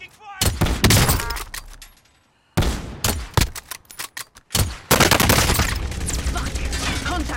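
Loud, close bursts of automatic gunfire in the Warzone battle-royale shooter, arriving in rapid volleys with short silent gaps and then a dense sustained stretch of fire.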